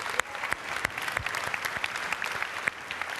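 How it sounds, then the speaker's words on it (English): Audience at a Salesforce IoT Cloud and Cisco presentation applauding Chuck Robbins, a steady dense wash of clapping throughout with a few louder sharp claps standing out. "How about a round of applause for Chuck Robbins"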